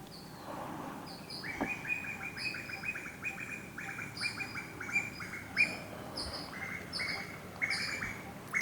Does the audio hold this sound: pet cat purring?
no